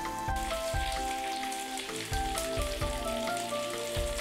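Food fries in a pan with butter, giving a steady, close crackling sizzle over faint tonal background sounds.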